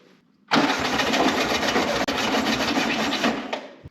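A 1968 Volkswagen Beetle engine, fitted with a new muffler, cranks steadily for about three seconds with a rhythmic grinding whir, never catching, then cuts off.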